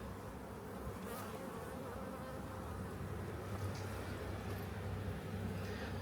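Honeybees at an open hive during a spring colony inspection, a dense, steady low hum of many wings filling the whole stretch, fairly close and continuous with no voices.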